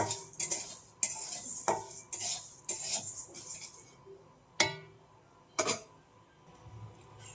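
Dry mung and whole masoor dal stirred in a wok, with a cluster of rattling, scraping spatula strokes and metallic clinks, then a few sparser sharp scrapes, close up with no talking.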